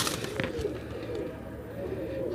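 A pigeon coos softly a few times at a pigeon market in Multan, amid low background rumble and faint rustling, nearby but quiet.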